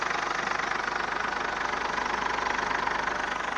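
A Ford Everest engine idling steadily under diagnosis, a continuous mid-pitched hum with a faint knocking rhythm, heard close and without talk.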